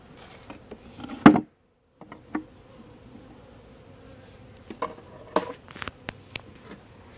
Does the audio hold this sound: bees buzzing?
yes